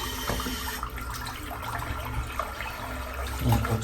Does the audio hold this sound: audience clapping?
no